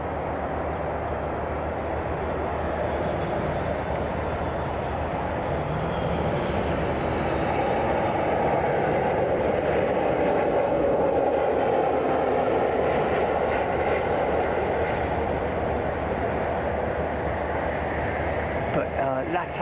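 An old cargo jet fitted with LATAM winglets taking off at Miami International Airport, a sustained broad engine roar that swells and holds at moderate distance for the whole stretch, with a voice talking over it.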